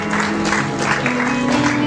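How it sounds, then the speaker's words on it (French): Audience applause at a book launch, a dense wash of clapping from a seated crowd, steady and moderately loud for under two seconds, with faint murmuring underneath. "Est-ce qu'on peut applaudir pour madame qui en a pris 2?"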